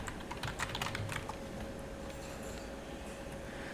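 Quick keystrokes on a computer keyboard as a search query is typed, a brisk cluster of clicks that thins out, over a steady low hum of room or air-conditioning noise, with no talking.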